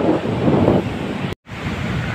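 Strong wind buffets and roars outdoors during kite flying, rising and falling unevenly, cut by a brief moment of silence partway through.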